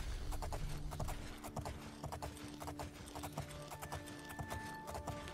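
Steady rhythmic hoofbeats of a galloping horse in The Elder Scrolls IV: Oblivion, with faint mechanical tones and music underneath, constant and fairly quiet throughout.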